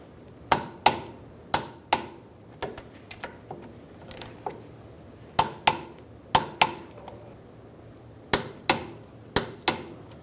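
A torque wrench clicks sharply and repeatedly while driveshaft bolts are tightened to spec on a 2011-2018 Ram 1500, the clicks coming close and irregular, sometimes in quick pairs, over a low steady background hum.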